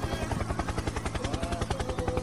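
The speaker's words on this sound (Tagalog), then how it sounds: "Helicopter, helicopter." A helicopter's rotor beats in a fast, steady rhythmic chop, loud and close, sustained throughout with no talking.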